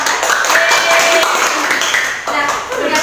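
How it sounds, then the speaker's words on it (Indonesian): Classroom applause during a microteaching lesson, a steady patter of many hands clapping at close range for the whole stretch, with voices mixed in underneath. "boleh tepuk tangan"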